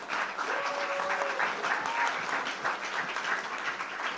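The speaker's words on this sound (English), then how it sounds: "Round of applause to Lisa," Steady, dense audience applause at a talk, with many hands clapping continuously at an even level for the whole stretch, with no voices standing out.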